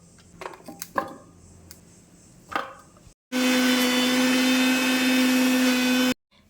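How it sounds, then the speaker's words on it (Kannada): A mixer grinder blends beetroot, carrot, amla, apple, ginger and lemon, running as a loud steady whine for about three seconds after a few quieter knocks and handling sounds, then stopping abruptly. "ಸೊ ಇವಾಗ ಇದನ್ನೆಲ್ಲ ಹಾಕಿಬಿಟ್ಟು ಗ್ರೈಂಡ್ ಮಾಡ್ಕೊಳ್ಳೋಣ"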